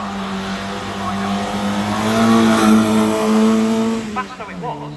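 A rally car driven at the Rallye Prescott hill event, its engine note rising and holding a strong steady tone before shifting down as it passes, with a voice talking over it.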